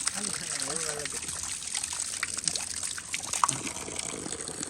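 Water flows and trickles steadily at a dam along a path, a continuous near rush that runs beneath people talking throughout.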